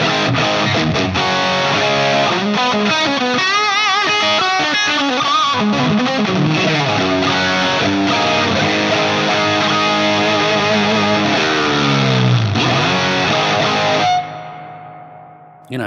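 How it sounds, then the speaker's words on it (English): Heavily distorted electric guitar, an Axe FX amp model of a fully dimed Super Lead Plexi with plate reverb, plays continuously with sustained chords and bends, thick and loud, then cuts off abruptly near the end. "the sound of a fully dimed super lead plexi into that cabinet with a little bit of this plate reverb"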